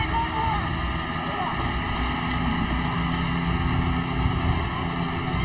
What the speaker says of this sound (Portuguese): a gente desliga o motor do barco